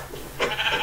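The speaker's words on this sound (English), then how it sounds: "Sheep!" A sheep in Minecraft bleats nearby, a short wavering cry rising over low background noise.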